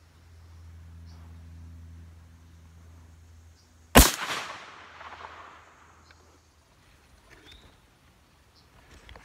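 A single loud blast from a 12 gauge shotgun firing a Remington Slugger slug outdoors, a sharp crack followed by a rolling echo that fades over several seconds, with quiet ambience before and after.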